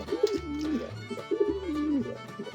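Pigeons coo softly nearby in two repeated rolling phrases, low throaty calls rising and falling with no talking over them.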